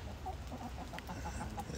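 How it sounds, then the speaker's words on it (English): Chickens cluck in a short, irregular series of soft calls, set fairly close against a steady low background rumble. "I see chicken in there."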